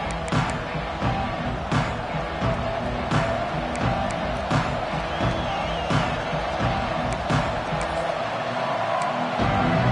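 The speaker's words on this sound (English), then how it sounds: "This crowd ready to make its presence known." A large crowd roars at a college football stadium at the opening kickoff of an Ohio State Buckeyes game, a sustained loud wash of cheering with scattered whoops and sharp claps, fairly close and unbroken.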